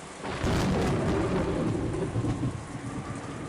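Thunderstorm effect in an audio drama: a loud, close roar of heavy rain with a deep rumble of thunder swelling in after a moment and slowly easing, no voices.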